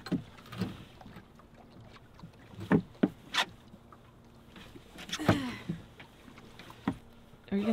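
A rowboat knocks and creaks on the water of Lake Bled, Slovenia, with scattered thumps and splashes, plus wind noise and an occasional faint voice in the background.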